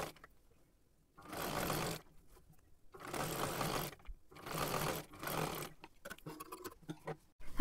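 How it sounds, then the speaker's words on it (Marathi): A sewing machine stitching a kurti seam runs in three sustained bursts of about a second each, separated by short pauses, with lighter fabric handling sounds near the end; close and fairly loud, no talking. "शिलाई पूर्ण मारून घ्यायची आहे."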